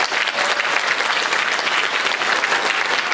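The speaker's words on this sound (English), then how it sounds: "So let's give a round of applause for your committee." A middle school Model UN audience at its closing ceremony gives a round of applause for the committee chairs. The clapping is dense and continuous and holds loud and steady throughout.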